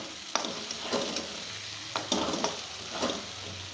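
Spice masala frying in oil for an egg and soybean curry, a steady sizzle with several scraping stir strokes at an irregular pace, close and moderately loud.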